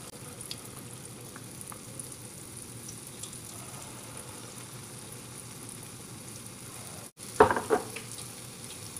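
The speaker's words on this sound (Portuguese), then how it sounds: "Com uma colher, eu vou pegando parte da massa e colocando no óleo." Spoonfuls of sandwich batter sizzle quietly in hot oil, a faint continuous frying crackle with a brief louder burst near the end as another portion drops in.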